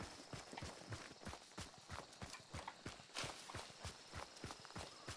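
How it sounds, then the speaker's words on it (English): Horse hooves clip-clopping in the Hunt: Showdown video game, a steady rhythmic run of close, crisp hoofbeats going on throughout without talk. "A horse."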